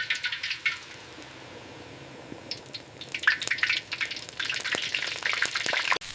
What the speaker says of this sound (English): Bánh xèo. Literally, the sizzling cake.